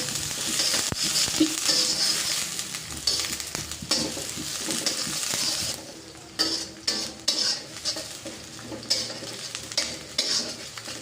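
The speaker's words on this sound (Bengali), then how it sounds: "এখন এই পেঁয়াজ কুচিটাকে হালকা একটু সফট করে ভেজে নেব।" Two medium-sized chopped onions fry steadily in hot oil, a continuous close sizzle with frequent spatula scrapes and stirring knocks against the pan, briefly quieter partway through before the stirring resumes.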